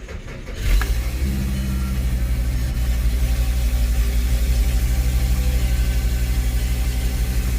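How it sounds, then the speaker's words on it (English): Volkswagen Jetta with a five-cylinder engine, 189,000 miles and a check engine light on, running steadily in a repair shop, a close, continuous low engine drone after a brief start. "I love the sound of these engines."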